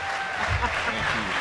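Audience applause at a dinner event for Andrew Whitworth, a short, steady patter of clapping with a voice speaking over it.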